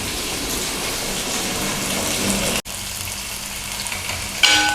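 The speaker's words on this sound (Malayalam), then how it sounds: "കുറച്ച് വെളിച്ചെണ്ണ ആദ്യം ഒഴിച്ചു കൊടുക്കാമേ നമ്മുടെ ഈ ചെറിയ ഉള്ളി ഒന്ന് വഴറ്റിയെടുക്കാനായിട്ട്" Small shallots and green chillies sautéing in coconut oil for a fish curry, a loud, even, close sizzle with a brief dropout near the middle.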